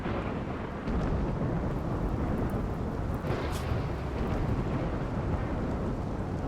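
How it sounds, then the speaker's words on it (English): Thunderstorm in the RimWorld video game: a continuous roar of rain and rolling thunder, with a sharper crack around the middle, steady and fairly loud throughout. "Quite a storm here."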